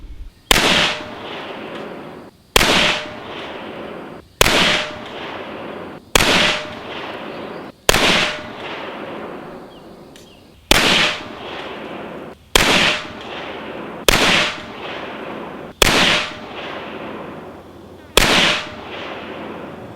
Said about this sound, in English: I shot it at 15 and 25 meters using two different types of ammo.